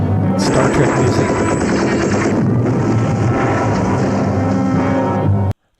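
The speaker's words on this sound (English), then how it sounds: "Those explosions, you know, matched up to the footage, it's quite good." Loud, dense explosions and blasts roll on continuously in 1980s movie footage, mixed with a film soundtrack, then cut off abruptly.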